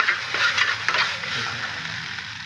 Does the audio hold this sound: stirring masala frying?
yes